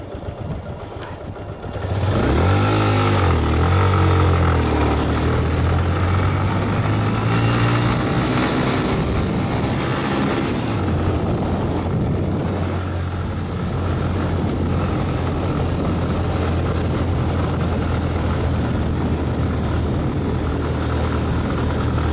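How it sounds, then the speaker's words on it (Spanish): A Yamaha Fazer 250 motorcycle engine pulls hard uphill carrying two riders, a loud steady drone that rises in pitch early on, then holds a sustained strained note throughout. "la verdad que esta moto es impresionante cómo sube"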